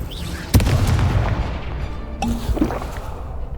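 A Confringo fire spell in the Hogwarts Legacy video game bursts with a sharp, booming blast, then a second, lighter impact follows over a rumbling game soundscape.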